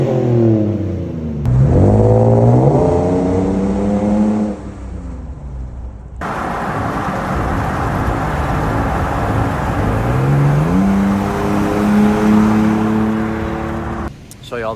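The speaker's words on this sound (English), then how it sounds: "we're going to do sound clips of the intake because it's actually like really way, way louder than stock" A second-generation Toyota Tacoma pickup engine with an aftermarket intake revs hard several times, its throaty intake roar rising and falling, then settles into a loud, steady drone.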